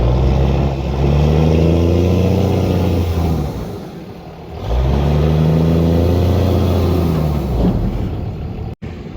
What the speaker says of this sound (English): So we are using my backup truck,